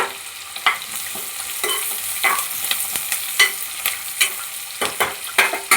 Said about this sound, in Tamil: கூடவே ஒரு கைப்பிடி வெங்காயம் போட்டு நல்லா வதக்கிக்கோங்க.